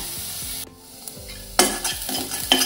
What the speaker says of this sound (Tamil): வெங்காயம் போட்டுக்கலாம். கூடவே கருவேப்பிலை போட்டு நல்லா வதக்கி விட்டுலாம்.